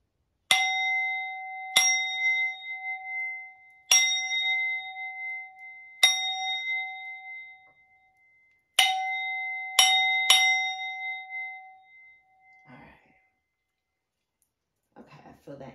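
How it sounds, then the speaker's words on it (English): A hand bell rung to clear energy, struck seven times at irregular intervals, two pairs in quick succession, each bright ringing tone decaying slowly, followed by faint rustling and soft clicks near the end. "I'm going to go ahead and sound this bell."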